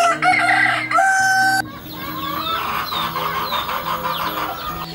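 A rooster crows loudly nearby, then hens cluck and chatter in a busy, uneven chorus; KUB native village chickens on an Indonesian poultry farm.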